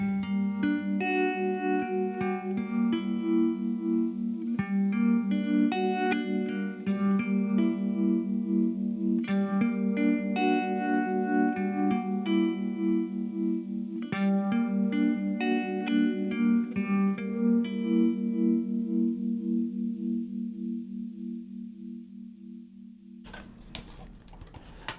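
A song playing on WDVR radio: a steady rhythmic instrumental with a bright, effects-heavy guitar-like tone and a repeating ticking pulse, fading out near the end before a short burst of noise.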